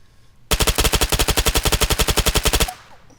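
MP7 PDW submachine gun firing in Arma 3, one sustained full-auto burst of about two seconds with rapid, evenly spaced sharp cracks, loud and close, then quiet.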